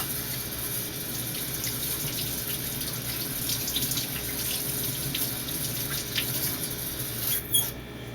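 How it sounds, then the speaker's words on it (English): A kitchen tap runs in a steady, fairly loud stream while hands are washed under it, with a faint squeak near the end and no talking. "I'm going to wash my hands."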